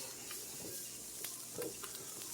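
Cabbage and egg brunch food frying in a pan, a faint steady sizzle with a few soft scrapes and taps of stirring over it.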